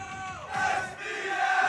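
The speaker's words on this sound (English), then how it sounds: "you can probably hear it, the crowd are electric, the energy is palpable" A roaring crowd cheers in the Pokemon Stadium 2 video game, a dense, loud swell that rises and falls in waves across the whole moment, with no clear talking above it.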